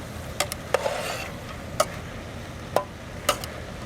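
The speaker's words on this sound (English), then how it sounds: "Get that a nice stir in there." Peas, tomatoes and green onions being stirred into a one-pot chicken curry, with a soft, steady scraping texture broken by a handful of sharp spoon clicks against the pot.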